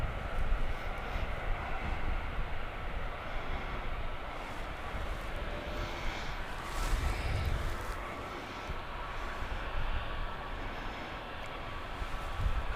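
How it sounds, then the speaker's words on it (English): JetBlue airliner taxiing at Gatwick Airport, a steady broad engine rumble and whine heard from a distance outdoors, swelling slightly midway, with no voices. "And we've got JetBlue, who is also taxiing."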